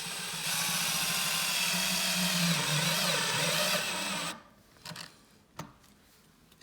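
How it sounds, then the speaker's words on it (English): A power drill with a magnetic bit holder and low clutch setting drives a self-drilling, self-tapping screw into a center-punched spot, giving a steady loud grinding whir for about four seconds before stopping, followed by a few brief clicks and knocks. "My magnetic bit holder will hold my self-drilling, self-tapping screw in place."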